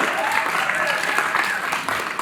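Audience applause breaks out at a commission meeting, a short burst of steady clapping from a room full of people, with a voice speaking over it.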